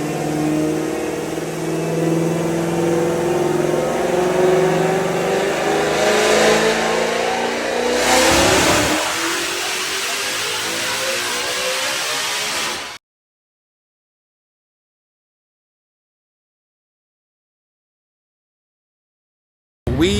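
A supercharged Shelby on a dyno at 14 pounds of boost revs loud and close, its engine note climbing and holding, then dropping off sharply before the sound cuts to silence.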